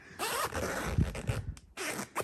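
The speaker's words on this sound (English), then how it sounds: "Let me zip it up." The fabric door of a Zenply portable pet dog playpen is zipped shut in several quick, close, raspy pulls with brief pauses between them, loud and alone without talk.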